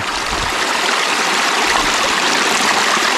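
Water running through a GOLDIBOX sluice box while gold prospecting, a loud, steady rushing wash that fills the whole stretch with no voices.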